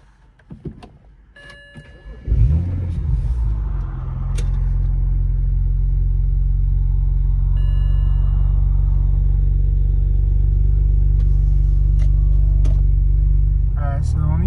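A BMW E92 with the N54 twin-turbo engine starts after a few knocks and clicks, then settles into a steady low rumble that swells and stays loud and even, heard from inside the car, with brief faint clicks near the end.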